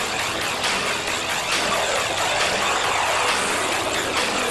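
Six Thunderbirds F-16 jets roar steadily overhead at an air show, a loud continuous rushing jet engine noise with no pauses and no talking.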